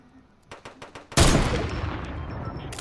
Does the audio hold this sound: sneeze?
no